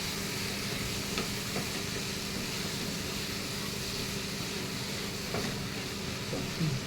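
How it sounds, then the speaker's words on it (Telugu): Chicken curry cooked with chukkakura (sorrel leaves) sizzles quietly and steadily in a pan, a soft continuous frying hiss with a few faint stirring clinks. "ఇది మంచిగా దగ్గరికి అయ్యేదాకా దీన్ని ఫ్రై చేసుకున్నాము"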